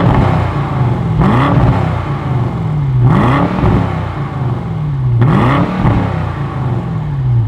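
A BMW M850i in Sport Plus mode sits with its engine burbling, then blips its revs three times in a slow, even rhythm. Each blip swells and sweeps up in pitch, then falls back to a deep rumbling idle, loud and close.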